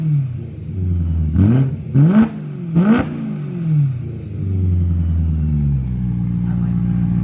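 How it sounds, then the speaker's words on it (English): A BMW E92 M3 with a new exhaust fitted with four cats and two resonators revs close by in three quick throttle blips, each a rising rasp over a steady idle rumble that continues afterward. "Give it a little rev."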